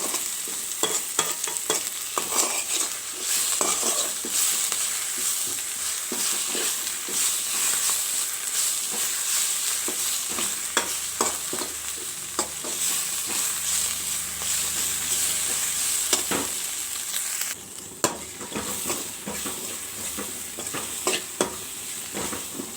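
Senna leaves fry and get stirred in a pan as remedy greens are prepared, giving a steady close sizzle with repeated scraping clicks throughout, no voices present.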